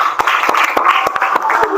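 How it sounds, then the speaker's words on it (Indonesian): Students in a classroom clapping for group 4: a loose patter of scattered, uneven hand claps, close and fairly loud, over a steady bed of voices. "tepuk tangan untuk kelompok 4"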